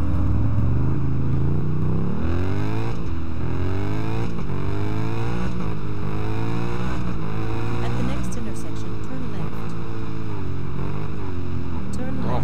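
Ducati 999R motorcycle engine in the racing game Test Drive Unlimited, loud and close, revving through rising gear sweeps with shifts and a gritty high-rpm drone, steady for about twelve seconds.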